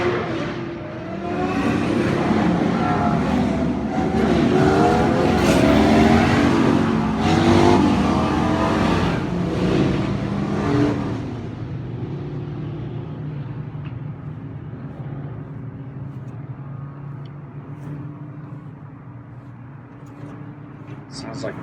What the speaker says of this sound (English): sounds like a convoy.